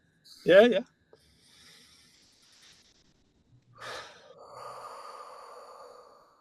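People taking a deep breath: a sharp loud inhale up front, then a quieter longer exhale and breathing, with sparse breaks between.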